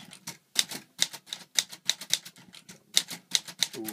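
Typewriter keys struck in quick, uneven succession, each a crisp, close mechanical clack with brief gaps between clusters of strokes.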